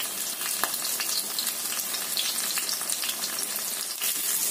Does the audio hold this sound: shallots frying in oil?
yes